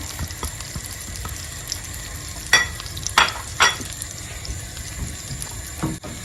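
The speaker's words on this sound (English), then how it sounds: "Go ahead and add our butter to the pan." Butter melting in a frying pan after shrimp and sausage come out, a steady soft sizzle under room noise with a few sharp scraping clatters in the middle and one more near the end.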